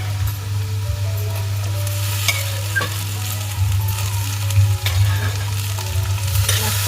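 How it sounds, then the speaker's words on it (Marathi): Tomatoes fry with cumin and browned onion in a pan, a steady close sizzle with stirring scrapes and a few sharp clicks, over a constant low background hum. "तर आता मी टमाटर घालते"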